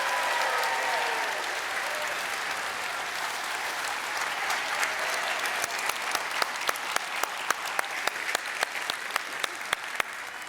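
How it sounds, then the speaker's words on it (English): A large crowd applauds steadily, with dense clapping throughout and a few sharper, distinct claps standing out toward the end. "Please give a big round of applause to Dr. Julia Nepper."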